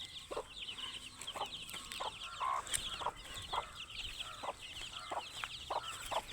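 A hen clucks in a steady, repeating rhythm while her fourteen chicks peep in high, thin bursts around her. The farmyard calls are close and clear, with no talking.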